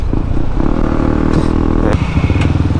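A Honda CB150X motorcycle engine runs loud and close on a highway ride, a continuous low rumble with clattering mechanical texture and a brief rise in pitch, while a rider talks over it.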